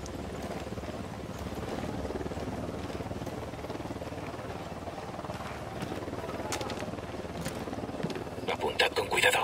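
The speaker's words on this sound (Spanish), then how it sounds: "Se acerca un helicóptero, ¡al suelo!" In the video game Ghost Recon Wildlands, a helicopter approaches as a steady rotor drone, growing louder over several seconds under a background wash of game noise and voices.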